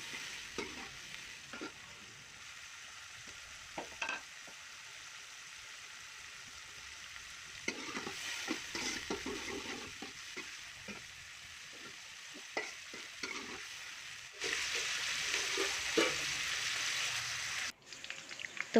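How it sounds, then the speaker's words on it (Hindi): Onions fry in two spoons of ghee in a pan, giving a steady soft sizzle with scattered scraping and clinking from stirring, quiet at first and then a louder hiss near the end. "2 चम्मच मैं घी के डाल रही हूँ और प्याज डाल के हम फ्राई कर लेते हैं इसको।"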